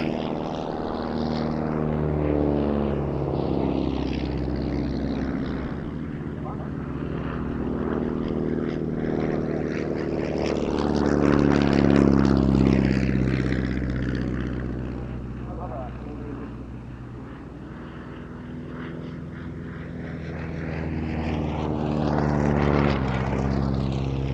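A Jungmann propeller trainer flies at the Duxford Battle of Britain airshow, its engine droning loud and then softer as it passes repeatedly overhead. Its pitch sweeps with each pass, and a commentator talks over it.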